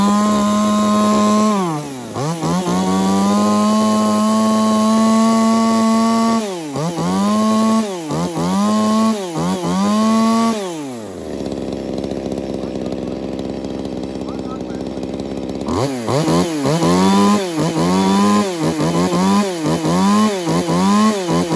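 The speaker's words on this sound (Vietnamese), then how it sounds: "Đây em test nổ tiếng máy con O3 cho các bác" A small two-stroke Japanese chainsaw engine buzzes loudly up close, revving in repeated sharp bursts, dropping to a rough idle, then revving hard again.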